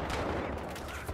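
Dense, rapid gunfire in the multiplayer shooter Battlefield Hardline, a continuous loud burst of overlapping shots filling the moment with no talking.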